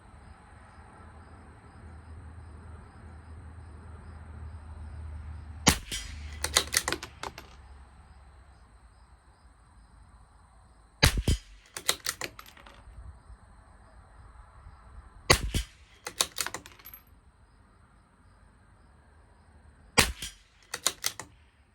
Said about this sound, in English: So I will shoot the top part of the diamond 5 shots